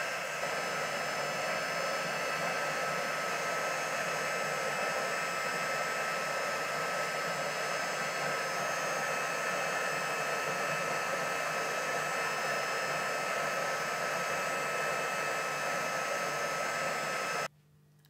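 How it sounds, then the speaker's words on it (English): An embossing heat gun blows a steady, loud, hissing whoosh of hot air for a long stretch while melting embossing powder, then clicks off abruptly at the end. "I'm going to get my embossing heat gun and turn that on."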